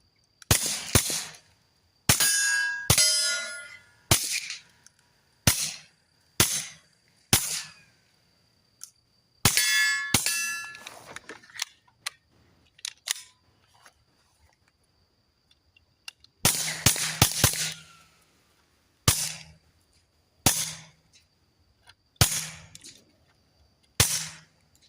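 Kel-Tec P17 pistol shots ringing steel targets outdoors, a string of sharp cracks with metallic clangs, fired in irregular bursts with quiet pauses between groups.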